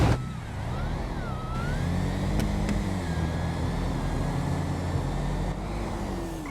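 A Nova and an Imperator OG roar down a no-prep drag strip in GTA V, engines droning loud and steady throughout, pitch sliding upward as the cars pull through the gears, with no voices over it.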